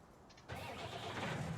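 A tractor engine in Farming Simulator 19 cranks to life after a quiet moment, settling into a loud, rough, throaty running rumble close by with no talking.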